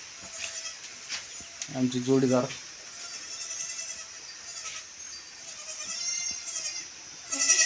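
Goats in a goat shed on a farm give a short, fairly close bleat, heard between stretches of someone talking.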